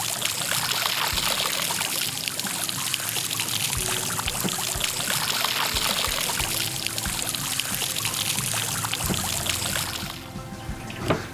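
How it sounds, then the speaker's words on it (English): Water rinsing the screw holes and mast head of a Waydoo Flyer ONE electric hydrofoil: a continuous loud splashing stream pouring over the parts for about ten seconds, then cutting off to a quieter drip and a small knock. "start washing the screw holes and the mast head"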